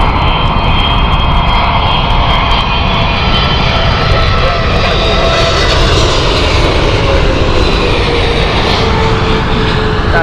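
Boeing 747 jet engines at Heathrow Airport, a loud continuous roar that stays steady and close for the whole stretch, with a broad rushing whine on top.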